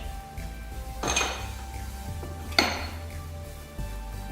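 A 13/16 wrench works a spark plug out of a 2017 Kawasaki KX100 dirt bike, giving a few sharp metallic clinks and knocks against steady background hum.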